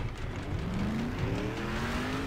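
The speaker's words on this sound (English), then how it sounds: "I can hear the engine slowly sputtering." A damaged car's engine in the racing video game Next Car Game drones and struggles with a rising, wavering pitch, loud and rough over tire and road noise.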